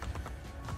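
Horse hooves in Assassin's Creed Brotherhood, the horse moving at a run, give a steady close clip-clop of repeated hoof strikes over a low game background.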